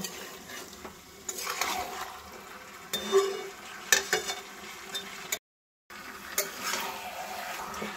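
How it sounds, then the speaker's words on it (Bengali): Chicken curry with potatoes being sautéed in a pan over a raised flame sizzles quietly, with repeated scraping and stirring strokes and occasional utensil knocks against the pan. "এবার বেশ কিছুক্ষণ ধরে এটা কষিয়ে নেব।"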